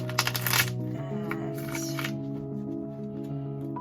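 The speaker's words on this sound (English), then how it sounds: "I'm just doing a shuffle" A Rider-Waite tarot deck shuffled by hand, with a quick burst of riffling and card friction early on before the handling settles into softer rustles, close and clear over a steady tonal background.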